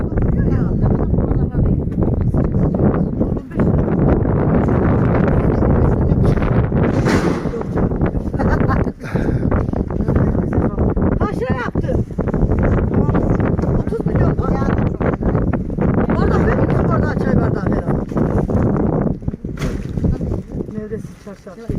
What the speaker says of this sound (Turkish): Ne kadar rüzgar var ya.